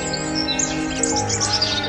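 A small bird chirps in a quick series of bright tweets over a steady tonal background, clear and fairly loud, with no speech.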